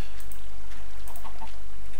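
A chicken in Minecraft giving a few short clucking squawks over a constant low background hum, with no talk.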